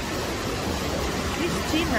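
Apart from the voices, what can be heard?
waterfall Cachoeira da Gruta, São Lourenço region, Minas Gerais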